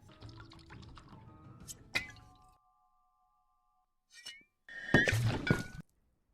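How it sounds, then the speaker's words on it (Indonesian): A glass bottle dropped deliberately beside someone hits with a sharp thunk and a clattering, splashing burst, preceded by a few softer knocks and followed by silence. "John sengaja menjatuhkan botol di samping istrinya"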